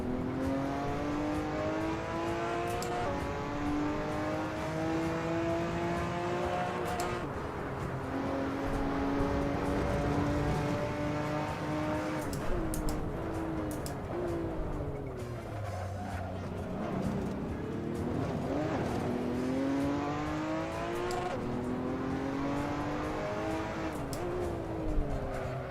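Racing car engines in the Assetto Corsa driving game rev continuously, with rising and falling pitch sweeps through gear changes and corners, loud and close throughout.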